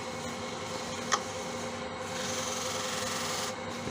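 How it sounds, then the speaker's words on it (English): A cloth buffs wax off a turned Tigerwood box, giving a steady, continuous rubbing hiss close by, with one brief sharper scuff partway through and no voices. "just buffing the wax off"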